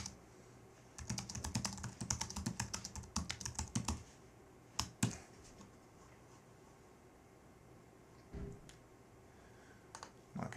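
Quiet bursts of rapid typing on a computer keyboard, clustered keystrokes for several seconds, then a few isolated clicks and taps after a pause, close and faint in a still room.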